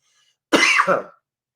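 A single short, forceful cough, close and loud, standing alone in silence.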